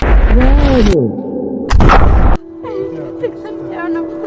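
A single loud gunshot bursts out during a shooting therapy session, set between stretches of people talking.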